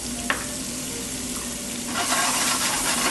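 A shallot tossed into a hot pan for searing alongside shrimp, sizzling steadily and close, with a small clink early on and the frying growing louder toward the end.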